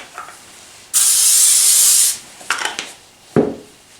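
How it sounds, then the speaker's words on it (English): A steady aerosol spray hisses for about a second, followed by a couple of short scraping rustles and a brief knock. "you're going to want to spray that with cooking spray"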